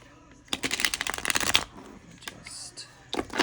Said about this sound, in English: shuffle these up a little bit.